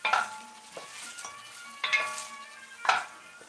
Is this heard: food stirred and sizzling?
yes